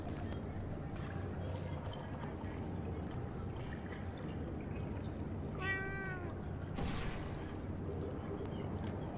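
A single short cat meow rises briefly out of a low, constant background hum from a video game, fairly faint, with no speech over it.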